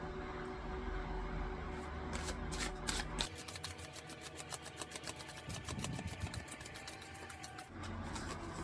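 Tarot cards shuffled by hand, a close, quiet run of rapid riffling flutters in quick bursts over a low background hum, no talking.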